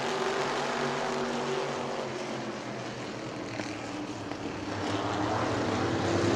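Race cars roar around a racetrack at a family fun night in New Smyrna, a steady, dense engine drone heard from a distance that swells slightly toward the end, with no voices.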